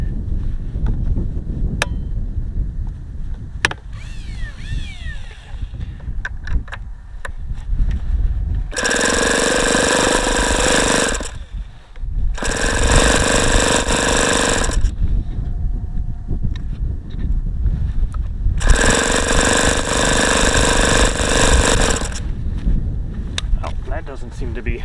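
An ASP FS65 four-stroke model aircraft engine cranks in the cold without firing, heard as three loud bursts of electric starter whine and churning separated by pauses, with voices talking before and between the attempts.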